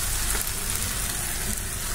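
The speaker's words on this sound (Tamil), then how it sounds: "இப்போ பார்த்தீங்கன்னா வெங்காயம் நல்லா வதங்கிட்டே இருக்கு" Onions sautéing for a dhaba-style paneer masala, a steady close sizzle and frying crackle filling the pan, with occasional stirring scrapes and no voices.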